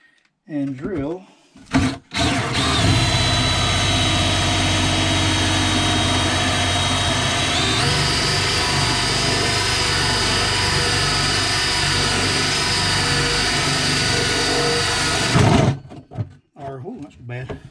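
A hole saw grinds steadily through an RV sink for about thirteen seconds, a loud, harsh whine with a rising pitch partway through, then stops.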